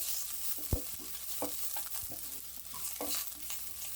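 Onions fry in a pan for a Chettinad chicken gravy, a soft low sizzle with a sharp knock of a spoon against the pan and several lighter stirring scrapes, quiet and without speech.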